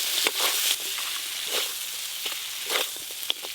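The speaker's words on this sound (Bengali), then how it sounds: "ভেজে রাখা জলপাই আলু, ভেজে রাখা কাঁকড়া, মশলার সঙ্গে সব কিছু কষে নেবে।" Fried crab and olive-flavoured potatoes are stir-fried with spices, soft sizzling with intermittent scraping and stirring strokes, close but fairly quiet, no talk.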